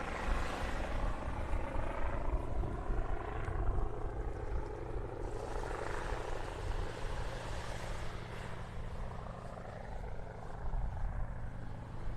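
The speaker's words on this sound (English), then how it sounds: "Helicopter going overhead." A helicopter's rotor thumps steadily overhead above a beach in North Naples, Florida, loud and sustained, its whooshing drone swelling and fading slightly over several seconds.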